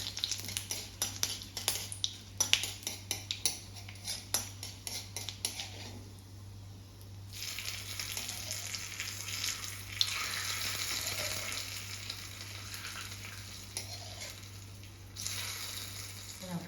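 A hot tempering of dried red chillies and curry leaves is poured into a bottle gourd and lentil curry, starting with scattered metal clinks of a utensil and moving into a steady close sizzle and hiss that runs on with occasional scrapes.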